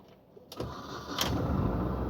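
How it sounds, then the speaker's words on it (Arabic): A car engine at a public vehicle auction in France starts and then runs with a low steady rumble. It builds from quiet to a constant idle, with a couple of brief mechanical clicks near the start. "كتسمع دقات الموتور"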